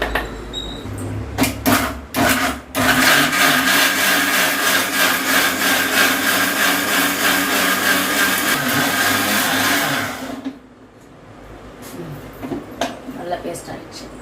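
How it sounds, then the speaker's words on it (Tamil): An electric mixer grinder blends sautéed masala for Chettinad egg gravy. A few short bursts give way to about eight seconds of loud, continuous grinding that then stops, and voices can be heard around it. "இப்போ இதை ஆற வச்சு மிக்சியில் போட்டிருக்கேன் அரைக்கணும்"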